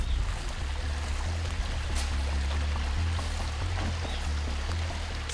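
A mountain stream flows steadily in a deep forest in Gangwon Province, its continuous broadband rush of water loud and close with a strong low rumble and no voices.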